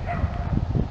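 Dogs shut inside RVs at a Yellowstone campground bark and yip, a few short muffled barks in quick succession, fairly close and loud.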